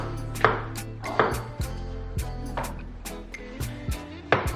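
Mushrooms being chopped with a knife on a cutting board for a mushroom soup, a steady series of crisp, close thuds about one or two per second.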